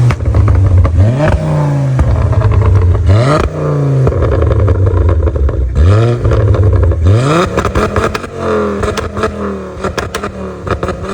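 A loud car engine revs hard several times, climbing in pitch with each push and dropping back, ending in rattling idle.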